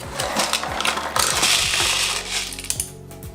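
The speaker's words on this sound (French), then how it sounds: "T'avais un peu mal fermé le chargeur à câble, du coup il y a des billes qui sont tombées" Small airsoft BBs spilling and rattling out of a badly closed cable-wound magazine during an unboxing, a dense, continuous clatter of many tiny plastic pellets with close mechanical clicks and scraping.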